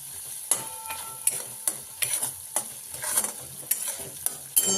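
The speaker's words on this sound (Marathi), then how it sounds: "चांगलं तेलात भाजून घ्यायचं." Ground masala paste fries in oil in a pan and is stirred often, making rhythmic scraping strokes about every half second over a low sizzle. No talking.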